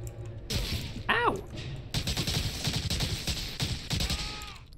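Machine pistol fire in the Medal of Honor Allied Assault game comes in rapid bursts of sharp cracks, mixed with impacts, at moderate loudness.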